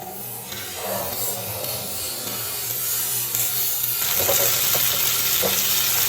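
Tomatoes and onions sautéing in a pan for an ivy gourd (kovakkai) gravy, giving a continuous close sizzle with rubbing, scraping stir strokes that grow slightly louder toward the end.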